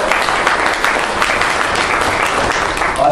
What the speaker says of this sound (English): a big round of applause for Lufthansa